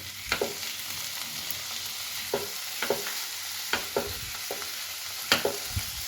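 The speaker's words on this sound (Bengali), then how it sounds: "এবার ওদিকে আমার পেঁয়াজটা ভাজা হচ্ছে আর পেঁয়াজটা আমার মোটামুটি ভাজা হয়ে এসেছে" Onions and chopped tomato fry in a pan under a soft continuous sizzle, with several sharp scraping stirs of a spoon against the pan at irregular intervals.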